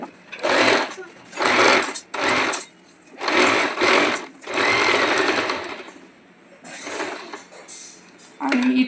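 A domestic sewing machine stitches a blouse in several close, loud whirring bursts separated by short pauses, its mechanism clattering quickly and evenly.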